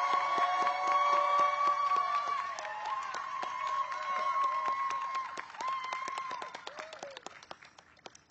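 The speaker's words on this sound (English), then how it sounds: "Let's give Tabitha a loud round of applause." A crowd claps steadily, a dense patter of applause that gradually thins out toward the end, with a few scattered claps lingering.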